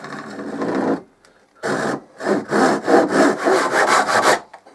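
A pull saw cutting a piece of pine CLS timber: loud, rasping strokes, one long pass, a short pause, then a run of quick, regular back-and-forth strokes that stop abruptly.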